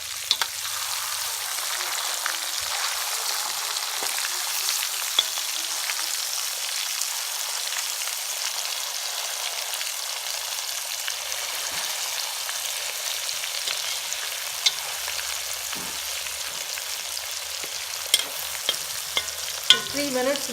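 A salmon fillet, freshly flipped, fries in a hot pan with a steady, even sizzle and crackle that runs unbroken for the whole stretch, joined near the end by a few sharper pops and spatters; no voices.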